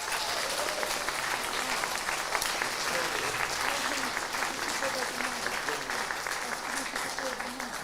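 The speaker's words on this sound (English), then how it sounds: "A round of applause again," An audience at an awards ceremony applauds steadily and fairly loudly throughout, a dense wash of many hands clapping, with faint voices mixed in.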